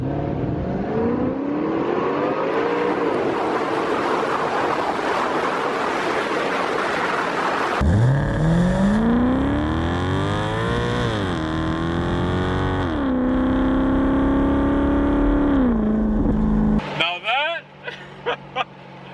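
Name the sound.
sports car engine accelerating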